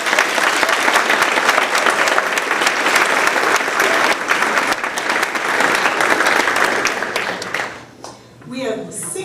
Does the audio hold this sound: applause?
yes